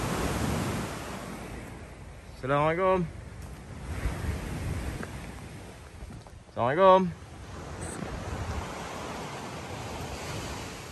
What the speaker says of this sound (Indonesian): Nak tengok kita tepi laut ni.